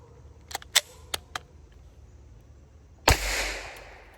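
Four quick, sharp clicks are followed by one louder suppressed pistol shot firing a subsonic round, with a short hissing tail. Each report is near and distinct, with no voices.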